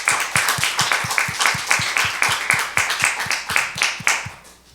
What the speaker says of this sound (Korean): 그 하나님께 감사의 박수 올려드립니다.